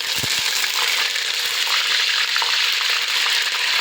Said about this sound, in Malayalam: നമ്മുടെ ഉലുവയും കടുകൊക്കെ ഇവിടെ കിടന്ന് പൊട്ടിക്കൊണ്ടിരിക്കുകയാണ്